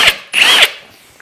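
A drill bores into a dense ash tree ring that is as hard as iron, in two short, loud, close bursts of high whining bit-on-wood grinding with a brief pause between them.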